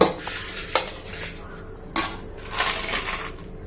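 Rice being stirred and mixed in a bowl for a no-cook vegetable biryani, with a spoon scraping and clinking against the bowl in a few sharp knocks and softer scraping strokes, close and clear.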